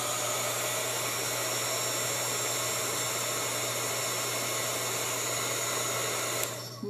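A hair dryer blows steadily and loudly on a watercolor painting to dry green paint, a constant close whoosh with a low hum that runs nearly the whole time before cutting off at the end.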